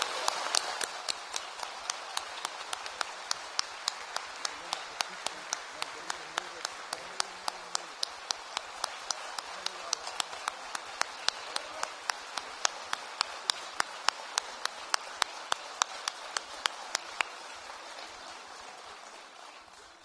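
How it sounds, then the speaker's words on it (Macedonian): Sustained applause from an audience at a jubilee concert celebrating seventy years of a music school in Bitola, honouring orchestra members and performers; steady dense clapping at moderate level with sharp regular accents running throughout. "ве повикувам уште еднаш со бурен аплауз да ги поздравиме оркестрантите и"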